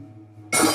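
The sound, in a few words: glass breaking, hit with a book, in the video game Amnesia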